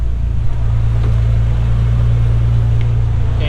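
A truck engine idles steadily and close by, a continuous low rumble with an even pulse and no revving.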